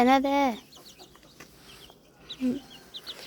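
Backyard chickens clucking, with a loud rising cluck at the start, another shortly after, and faint chirping between, heard close in a quiet setting.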